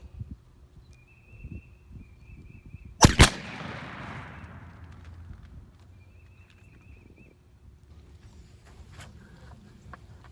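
A single loud shotgun blast from a 28 gauge firing a Rio 1 ounce factory load of number 6 shot through a super full choke outdoors, a sharp crack followed by a fading rumbling echo amid quiet background sounds.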